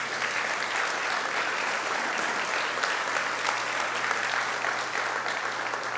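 Steady, sustained applause from a large church congregation filling a reverberant room, continuous and loud throughout.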